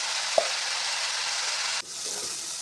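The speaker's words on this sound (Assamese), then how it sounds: "পানীখিনি শুকাই যোৱালৈকে মই এনেদৰে ভাজি থাকিলোঁ।" Tomatoes and dried fish fry in a pan with a steady, close sizzle, one sharp tap near the start and a brief dip in the hiss before frying resumes.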